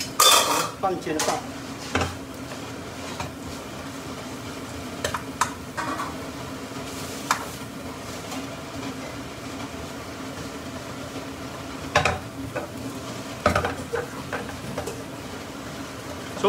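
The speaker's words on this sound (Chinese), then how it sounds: "所以我们只是煎下面啊" Wonton noodles pan-fry in a wok with a steady sizzle, broken by loud metallic clanks and scrapes of the utensil on the pan, while people talk now and then.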